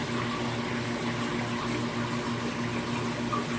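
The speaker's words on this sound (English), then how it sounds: "So the water flows into the sump, in a few spots here" Water pours steadily into the sump of a fish room aquarium system, a constant rushing, gurgling flow with a low pump hum beneath, close and unbroken, with no voices.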